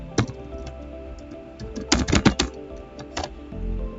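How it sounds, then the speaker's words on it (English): Typing on a computer keyboard, a few scattered key taps and then a quick cluster of clicks, close and fairly faint over a quiet background, with no talk. "I'm going to type"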